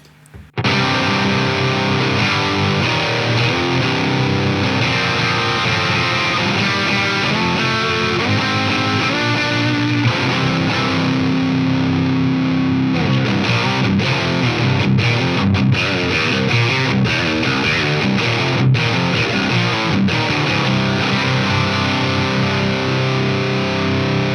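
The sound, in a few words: electric guitar through distortion pedal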